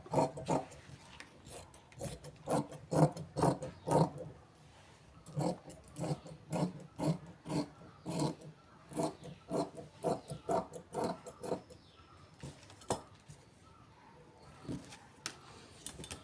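Scissors cutting the back piece of a blouse from fabric, a series of crisp, rhythmic snips and rasping cuts close by, coming in bursts with short pauses between them.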